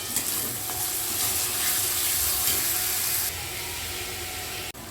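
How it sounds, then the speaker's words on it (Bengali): Ground spices, including cumin and red chilli powder, sizzle and fry in a pan as they are stirred for jackfruit and prawn curry, a loud, steady close-up hiss that softens slightly partway through. "সমস্ত কিছুকে একটু ভালো করে কষে নিতে হবে।"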